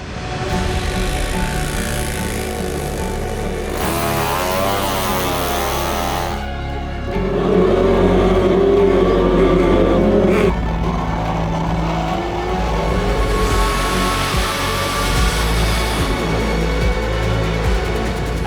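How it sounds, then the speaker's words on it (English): Race car engines at a racing event rev loudly and continuously, rising and falling in pitch with one sharp swell partway through, a steady close roar throughout. "the engines are fired, tires are hot"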